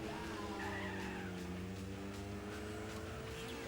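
A race car in the Gran Turismo 4 video game slides across gravel, its engine droning steadily with a continuous gritty skidding rush that stays loud throughout.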